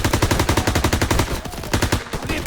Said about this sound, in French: Tir de suppression. Continuez à tirer.